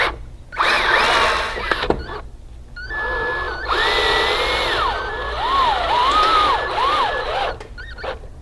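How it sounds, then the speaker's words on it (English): A power drill driving 3-inch screws into a satin nickel door reinforcement lock, with close, loud whirring runs whose pitch rises and falls as the motor loads and slows, separated by short pauses. "your final step is to install these 3-inch screws"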